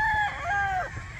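A rooster crows once, loud and close, its drawn-out call rising and falling over about a second, with a hint of chickens nearby; the birds are tethered farm fowl.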